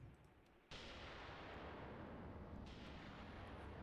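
Artillery fire in the tank video game Tank Warfare: Tunisia, a sudden heavy blast erupting into a sustained loud rumbling roar, with a second impact layered in midway.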